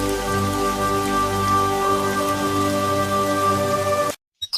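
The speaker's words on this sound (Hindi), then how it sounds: "बारिश की बूंदें उनके चेहरों पर गिर रही थी" Rain falls in a steady patter with a constant hum of tones running underneath, then cuts off abruptly near the end.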